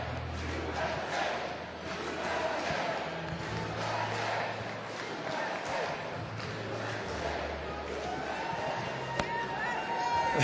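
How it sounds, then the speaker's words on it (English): A large crowd at a Trump rally chants USA in a rhythmic, sustained roar, heard from a distance with muffled, somewhat muddy pickup and a few sharp knocks. "Why don't we take a live listen to the crowd here chanting USA."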